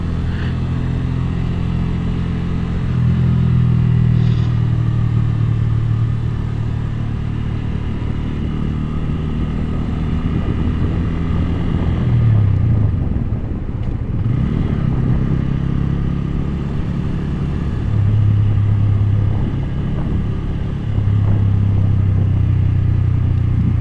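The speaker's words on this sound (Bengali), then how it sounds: "স্কুটারে চলা আসলে খুবই সুন্দর।" A scooter ridden down a road with its engine droning steadily near the mic, a low rumble that swells with throttle changes and wind buffeting throughout, with no talking.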